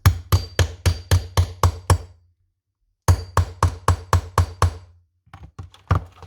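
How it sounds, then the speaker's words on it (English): Two quick runs of sharp hammer taps fastening binder fasteners, about seven or eight blows each, separated by a brief silence, close and crisp, ending with a few lighter knocks. "Then you're gonna take your hammer and just fasten them."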